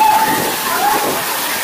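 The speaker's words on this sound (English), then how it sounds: "So this is the Lazy River" Water flows and sloshes steadily in the lazy river at the Blizzard Beach water park, a constant, loud, close wash with faint tonal sounds riding on top.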